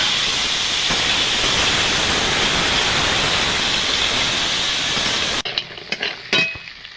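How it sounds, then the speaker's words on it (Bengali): Turmeric- and salt-coated field crab pieces frying in oil in a wok, a loud, dense hiss that holds steady and then cuts off abruptly, followed by a few faint clinks and scrapes. "আমি কাঁকড়া মাছে হলুদ লবণ মাখিয়ে নিয়েছি, এটা এবার ভেজে নেব।"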